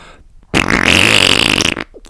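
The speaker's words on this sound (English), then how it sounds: "He loves the sound of his farts, and he'll give you like a range of sounds." A bubbly, sputtering fart, loud and close, holding for about a second and a quarter between quiet stretches, with no voice over it.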